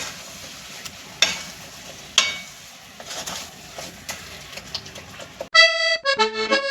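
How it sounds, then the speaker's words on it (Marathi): Potato halwa mixture with powdered sugar stirred in a pan, a spoon scraping and clacking against the metal in irregular strokes with soft sizzling, ending in a brief burst of bright chiming tones. "आता पुन्हा एकदा आपण हे छानपैकी सगळं मिश्रण ढवळून घ्यायचं आहे, एकजीव करायचं आहे"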